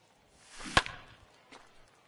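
A baseball bat strikes a ball during a game broadcast, one sharp crack followed by a short rush of crowd noise and a faint second knock.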